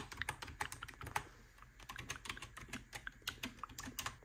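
Fingers tap out a quick, irregular clatter on a computer keyboard at a desk setup, a close but soft stream of clicks with brief pauses and no talking.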